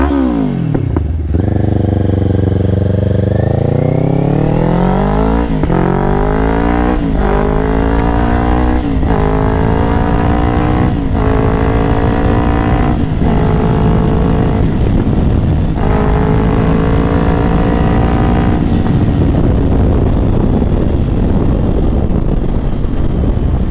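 A 2024 Kawasaki Ninja 500 SE with a Yoshimura AT2 full exhaust, loud and close, revving hard through repeated gear changes with rising engine pitch, then settling into a rough, crackling lower rumble.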